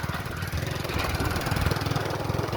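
Motorbike passing along a flooded road during heavy rain: a loud, close engine putters steadily, with water churning under the wheels throughout.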